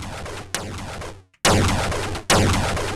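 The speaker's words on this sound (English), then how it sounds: "It almost sounds, if you listen closely, it almost sounds like a little hi-hat or something coming through." Repeated sharp, bright transient bursts with a crisp metallic, hi-hat-like click at the start of each swell, a compressor glitch artifact, several hits spaced unevenly, loud and close.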